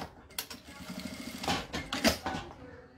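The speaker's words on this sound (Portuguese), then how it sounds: "vou costurar esse pedacinho de viés pelo lado de dentro, aqui na parte reta de baixo" A sewing machine stitching bias binding onto fabric for a makeup pouch, short whirring and clattering runs of stitches with small mechanical clicks, close and moderately quiet.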